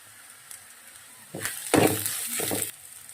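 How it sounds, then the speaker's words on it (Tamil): Chopped ripe tomatoes drop into a hot pan and begin to fry, giving a soft sizzle with a few stirring clinks that swell over the second half, quiet and close, with no one talking. "நல்ல பழுத்த வெட்டி வச்ச தக்காளியை நல்லா உள்ளே போட்டுக்கோங்க. போட்டு நல்லா வதக்கிடுங்க."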